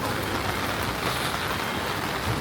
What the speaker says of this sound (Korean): 현재 갑자기 비가 내리고 있습니다.